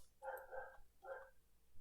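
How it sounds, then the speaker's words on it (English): A dog barking indoors: two short, fairly loud barks about a second apart, the first slightly longer, with no other sound around them. "And my dog is barking."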